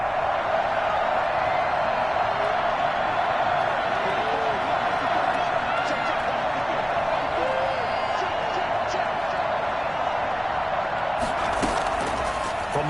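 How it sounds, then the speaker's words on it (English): A dense stadium crowd roars continuously in an American football video game ahead of a big third down, a loud, even wash of cheering with a few sharper thumps near the end. "The crowd getting into it as we come up on a big 3rd down."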